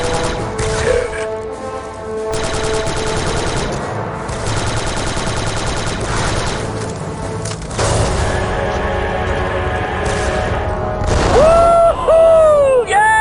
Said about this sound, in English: 3-8, my scanners show an explosion.